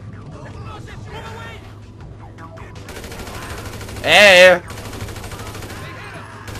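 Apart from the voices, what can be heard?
gunshots in a video game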